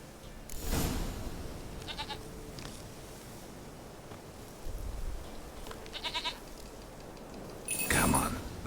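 Goat bleats from The Witcher 3: Wild Hunt, a few separate wavering cries, loud near the start and end and softer in between, over quiet game ambience.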